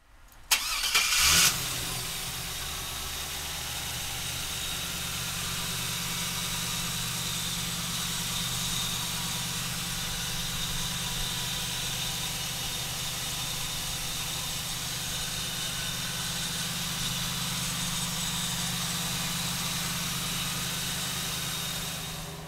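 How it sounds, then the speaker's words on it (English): A 1973 Chevrolet Camaro fitted with an LS1 V8 cranks and fires in a brief burst, then settles into a long steady idle with a low, even rumble, close and alone without talk. "let's fire this LS1 up"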